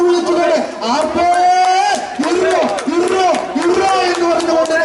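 At the Anapuzha boat race, a crowd of voices raises repeated rhythmic cheering shouts, loud and close, rising and falling in waves.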